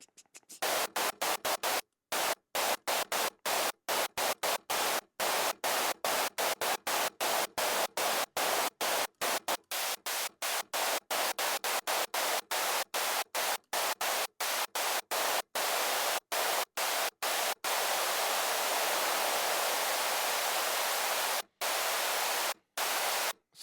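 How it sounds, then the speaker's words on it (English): Synthesized white noise in Cubase 7.5 hisses loudly across the whole range, chopped into rapid on-off bursts, then runs as a denser, steadier wash with a few brief cuts near the end. "it goes up on the scale, and you could tune your white noise"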